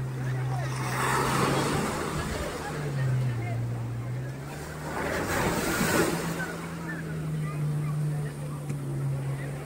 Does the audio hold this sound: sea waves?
yes